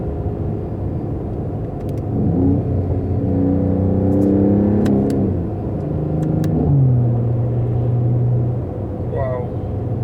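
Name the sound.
Mercedes-AMG GT 4-door coupe exhaust revving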